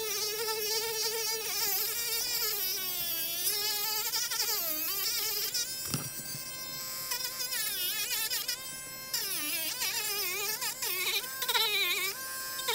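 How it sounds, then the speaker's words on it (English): A rotary tool grinds the edges of a foam axe, giving a continuous high, wavering buzz that rises and falls in pitch as the tool presses and eases, close and steady throughout. "now we're going to take the rotary tool and grind those edges down a little bit"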